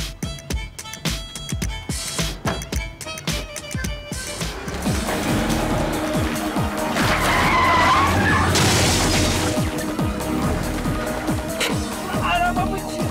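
A car crash scene from a Turkish sitcom: loud skidding and scraping with a sustained grinding, rushing noise and clattering impacts, rising to a steady roar that fills most of the clip, with no voices.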